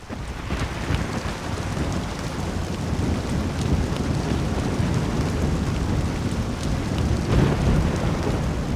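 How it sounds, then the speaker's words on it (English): Steady rain and rumbling thunder from a thunderstorm in LittleBigPlanet 3 form a loud, continuous wash with low rolling swells. "we're going to be talking about weather, in particularly storms, so thunderstorms"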